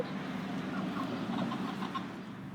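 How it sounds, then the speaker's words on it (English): Soft, scattered clucking from chickens over a steady low background hum, close by and fairly quiet, with no talking. "these are the chickens"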